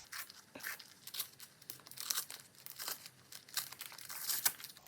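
Paper is torn open by hand to make a junk journal pocket, with close, faint crinkling and ripping in short irregular bursts.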